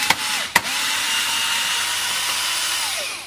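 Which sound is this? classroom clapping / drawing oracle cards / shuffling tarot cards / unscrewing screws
unscrewing screws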